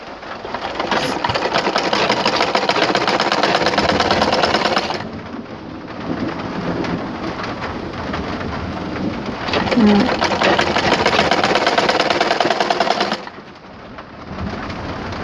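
A sewing machine stitching a cloth Quran cover at home, running in two long bursts of steady whirring with a quieter pause between, heard close against a noisy background.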